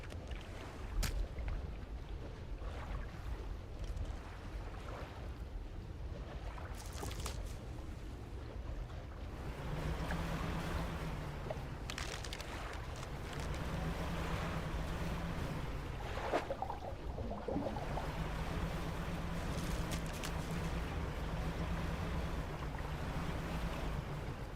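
A boat engine hums low and steady in the fishing game Dredge, its drone rising and falling in pitch under a constant wash of waves and wind.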